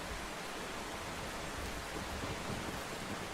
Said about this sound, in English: rain at the moment.